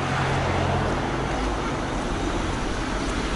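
A short stretch of busy Gibraltar street traffic, cars rumbling past nearby in a constant low roadway hum with no pauses.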